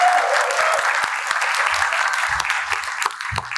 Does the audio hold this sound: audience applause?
yes